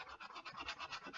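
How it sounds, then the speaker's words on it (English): Sandpaper works by hand through a glue layer in quick, rhythmic back-and-forth scratching strokes. The sound is close but faint, with about a dozen strokes in a short burst. "Just going to try a bit of sandpaper."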